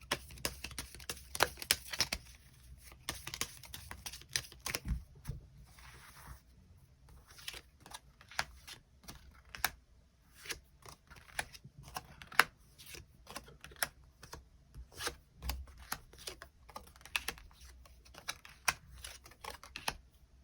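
Tarot cards are drawn and laid out, producing quiet, irregular clicks, taps and soft shuffling sounds scattered through the stretch, with brief quieter gaps between bursts of card handling.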